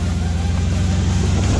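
A Mercedes-Benz G-Class SUV climbing over a steep off-road incline, its engine rumbling in a steady low drone close by, with no talking.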